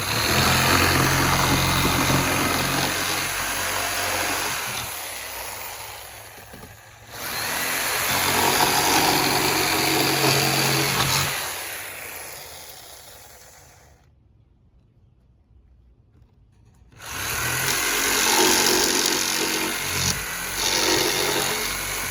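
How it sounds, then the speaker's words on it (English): An electric jigsaw cuts out a section of material in a home, running in loud buzzing bursts with a short pause and a longer silent gap before the final stretch of cutting. "Now I'm gonna get my jigsaw, plug it in."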